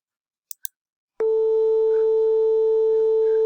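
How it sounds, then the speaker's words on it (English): After two faint clicks, a steady electronic tone made of three superposed sine waves starts abruptly and holds at constant loudness, clean and unwavering. "What you are hearing is a superposition of all 3 waves."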